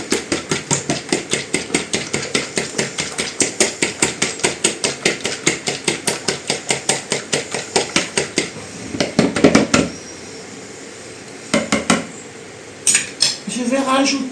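Eggs beaten for an omelette in a bowl, a fork or whisk striking the bowl in a fast, steady clatter of many loud clicks, then slowing into a few scattered taps and scrapes at the end.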